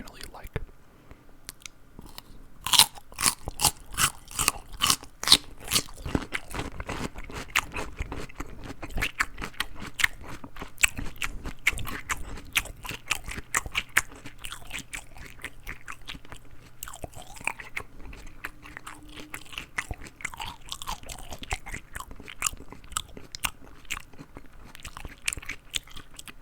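Close-miked ASMR eating of crunchy food: dense, irregular crisp crunches and bites with wet mouth sounds, loud and near, with a soft whisper-like voice in places.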